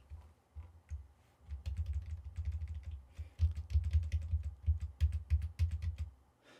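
Keys clatter on a computer keyboard in short bursts of clicks and taps, close and fairly loud, with a rhythmic pattern of repeated presses like a shortcut being hit again and again, no voices.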